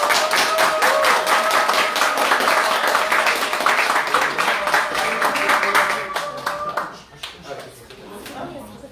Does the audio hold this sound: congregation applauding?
yes